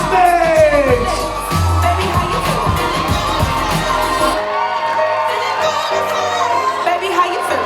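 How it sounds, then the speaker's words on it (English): Wedding guests cheer and whoop for the bridesmaids over loud music, with shouts and yells rising through the crowd before the music cuts off and the cheering thins out. "I need a thunderous round of applause for all of our bridesmaids."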